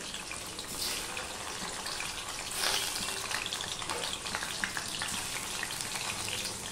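Paneer pieces fry in oil with a continuous, fairly even sizzle and crackle. A brief louder surge comes midway, without speech.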